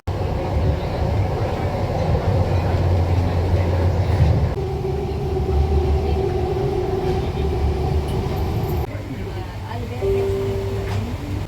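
A Bangalore metro train runs along the line near Singayanahalli, giving a steady close rumble with sustained tonal motor whine that shifts pitch partway through, while people talk over it.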